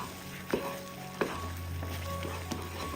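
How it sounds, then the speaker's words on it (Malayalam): Beetroot and rice-water mixture being stirred in a pan over heat, a soft steady sizzle with a few light scraping knocks of the spoon against the pan, close and alone. "കൈവിടാതെ ഇളക്കി കൊടുത്തുകൊണ്ടേ ഇരിക്കുക."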